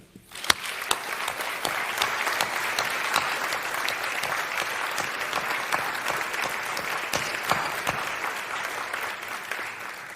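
Audience at a Slovenian film festival opening ceremony breaks into sustained applause, starting with a few claps and quickly swelling into a full, even round of clapping that fills the hall.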